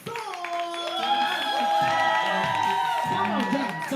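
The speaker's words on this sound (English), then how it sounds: "Start clapping, start clapping, start clapping. And give it up for Jackson." A crowd at a live spoken-word performance night claps, cheers and whoops as the next performer takes the stage. The sound is loud and sustained, with high shouts and voices ringing out over the applause.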